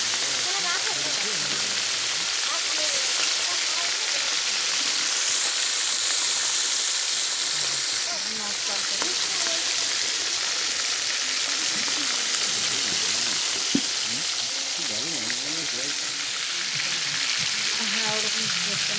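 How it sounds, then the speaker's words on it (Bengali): Pieces of large catla fish fry in hot oil, making a loud, continuous close sizzle and crackle that holds steady for nearly twenty seconds, with occasional stirring. "এদিকে মাছ ভাজা শুরু হয়ে গেছে।"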